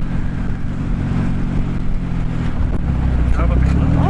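A Jeep engine revs and rumbles steadily while the vehicle drives through snow on a mountain pass in Colorado, a loud continuous low drone with a slight rise in pitch near the end.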